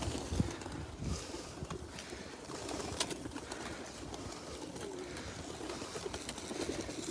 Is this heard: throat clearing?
no